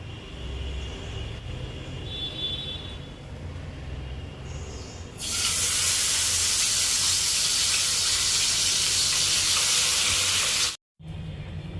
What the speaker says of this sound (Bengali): এবার মা মাছগুলো ভেজে নেবে